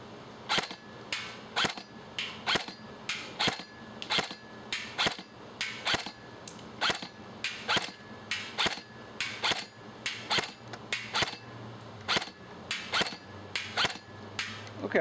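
Rapid steady volley of sharp shots from a JG W-16 SF M16A2 airsoft electric rifle fired at a dish half-hidden behind twigs outdoors, the cracks coming in a regular rhythm of roughly two per second, close and loud.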